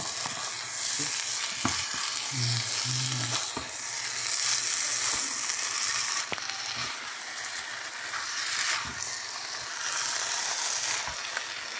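Creamy pulled chicken gnocchi sizzles loudly in a single pan while a utensil stirs it, adding intermittent scraping and thumping strokes over the constant hiss.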